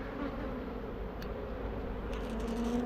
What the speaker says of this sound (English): I'm going to brush off these foreign bees off of here.